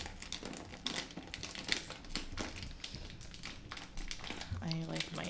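Crinkly plastic snack packaging is crumpled and tugged at in repeated crackling bursts, close up, while people talk faintly nearby.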